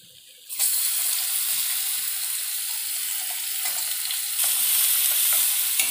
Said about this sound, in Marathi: तर कांदा व्यवस्थित सोनेरी रंग होईपर्यंत परतून घ्यायचा आहे आपल्याला।